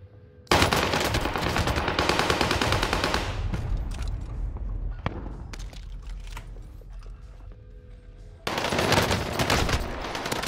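Bursts of automatic gunfire in Call of Duty, loud and dense, one long volley, then a quieter stretch of scattered shots, and then another heavy burst at the end.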